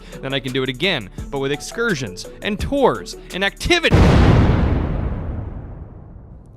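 A loud, booming explosion sound effect bursts in after a stretch of talking and rumbles away as a long, fading tail.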